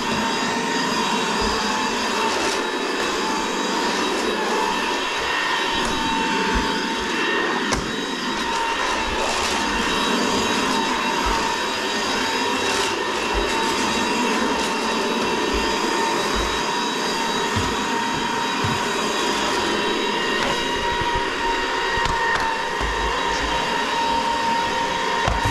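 A loud, steady mechanical whine and roar runs continuously, like a powerful vacuum cleaner humming at constant pitch without pause.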